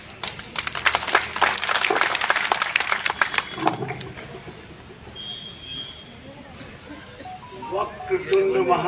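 A crowd at a BJP commemoration of Chandrashekhar Azad's martyrdom day applauds as Sujit Tiwari is welcomed to speak. Dense clapping lasts about four seconds, then fades into a quieter hall with murmuring and faint noises.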